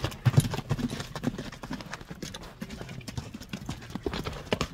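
A spirited, skittish horse runs with rapid, rhythmic hoofbeats, close by and clearly audible, an even galloping pattern with no other sounds over it.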